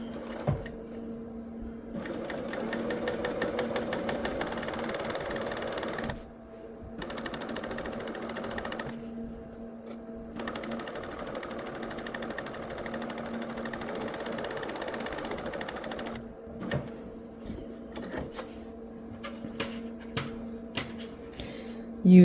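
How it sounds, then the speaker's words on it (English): A serger stitches down a marked quilting line, its rapid mechanical chatter running in long close stretches broken by brief stops, then giving way to scattered clicks and handling taps near the end. "we're going to sew down one of these purple lines, and we want to sew right with the needle on the line."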